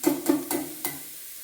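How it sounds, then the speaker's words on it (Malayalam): A utensil scrapes and stirs a curry in a pan after curd is added, giving four quick scraping strokes at a steady rhythm, close and moderately loud, with faint frying underneath. "ഇത് നല്ലതുപോലെ ഇളക്കാം."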